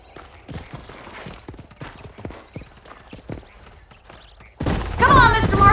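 Horse hooves clip-clop in a steady galloping rhythm in the western video game Red Dead Redemption, then a sudden loud, noisy burst with a whinny takes over near the end.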